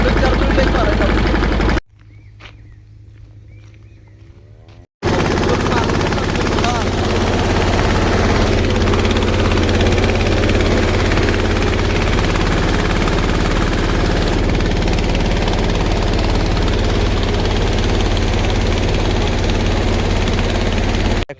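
Tractor engine running on a farm during pesticide spraying, a steady loud low drone that briefly drops away for about three seconds near the start, then holds constant and close.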